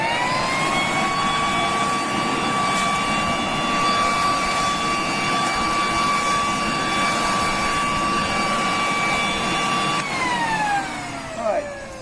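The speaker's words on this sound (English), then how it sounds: "let's see how good this actually works as a blower" A WORX Trivac WG 512 electric leaf blower runs in blower mode with a loud, steady high-pitched whine for about ten seconds, then spins down as the pitch falls away.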